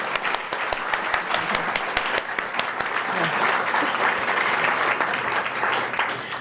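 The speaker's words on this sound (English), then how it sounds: "let's give our inductees one more round of applause" A packed hall claps for new inductees at a Phi Beta Kappa induction ceremony, sustained dense applause holding steady at full volume throughout, with faint crowd murmur beneath.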